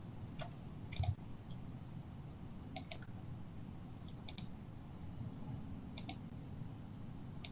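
A computer mouse clicking OK in Sage 200 Evolution CRM software, several sharp close clicks scattered at irregular intervals over a faint quiet background.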